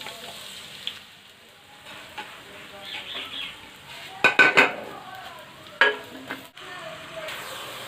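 Four chopped onions frying in a cup of oil for Hyderabadi chicken biryani, a soft steady sizzle near the pan with a few sharp clinks and scrapes of utensils against the pot.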